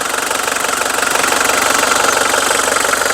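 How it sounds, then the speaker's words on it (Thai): A Mitsubishi Strada 2.5 Mega Cab pickup's diesel engine runs steadily at close range, a loud continuous clattering knock with even rhythm and no voices. "เสียงเครื่องเพาะนะครับ"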